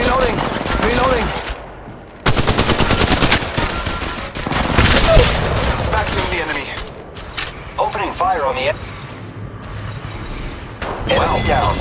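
Rapid automatic gunfire and mechanical weapon clatter in the mobile battle-royale game Apex Legends Mobile, loud bursts of shots with reload clicks, broken by short gaps and a game voice line.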